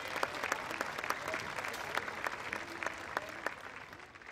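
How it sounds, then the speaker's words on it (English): Crowd applause fills a summer outdoor gathering at Arnolds Park, with dense, steady hand clapping and sharper individual claps standing out throughout, close and sustained with no talk over it. "How about a little hand clap?"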